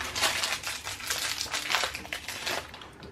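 Hazelnut Snickers bars dropped into a container give a close, crinkly crunching and rustling of wrappers that lasts for a few seconds at moderate loudness.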